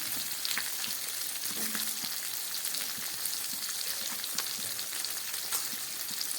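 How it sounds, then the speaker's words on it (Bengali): Tomato pieces frying alongside pabda fish in a pan, giving a continuous, fairly faint crackling sizzle with scattered small pops throughout and no talking. "এবার আমি এর মধ্যে কয়েক টুকরো টমেটো দিয়ে দিলাম।"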